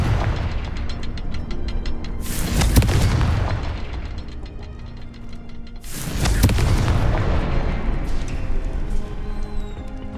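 Confringo blasting spells explode in the Hogwarts Legacy video game: two heavy, booming blasts a few seconds apart, each with a rumbling, slowly fading tail over a constant background of game ambience.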